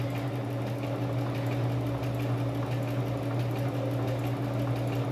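A sewing machine runs steadily while stitching a cotton dish towel, giving a continuous close mechanical hum and rapid needle clatter with no pauses or voices.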